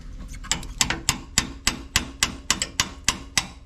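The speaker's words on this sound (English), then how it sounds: "You can tap just like that, just very gently if you wish" Gentle tapping on an A/C condenser part of an Isuzu NPR truck, a steady series of about fifteen light, evenly spaced metallic taps, close and fairly quiet.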